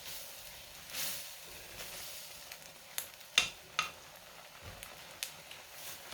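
Rice noodles and egg stir-fried in a pan without oil, a faint dry sizzle and hiss broken by sharp scraping and clinking strokes of a spatula, irregular and quiet, with no talk over it.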